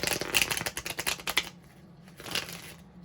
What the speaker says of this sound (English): Okay, tarot shuffled.